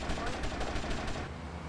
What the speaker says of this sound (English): I got a giant machine gun